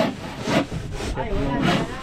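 A hand saw cuts through wood on a rainy outdoor building site, giving steady rasping back-and-forth strokes at a moderate distance, with faint voices in the background.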